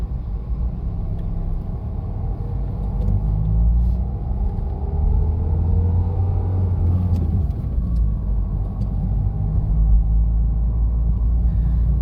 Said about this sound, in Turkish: Debriyajı biraz gevşetin ki freni bırakınca araba yürüsün.